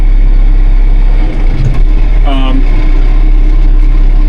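A Kioti tractor engine runs with a steady low rumble that rises briefly as it revs, while people talk nearby.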